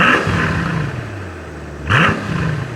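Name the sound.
Mercedes SL 65 AMG V12 engine sound from behind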